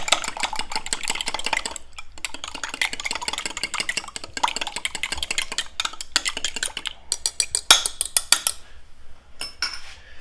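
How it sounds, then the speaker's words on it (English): Eggs, milk and lemon juice being beaten together in a bowl for blueberry lemon scones, making fast, close, rhythmic clinking and scraping of a utensil against the bowl, with brief pauses, heard alone. "I am going to slightly beat the eggs and the milk, the juice together"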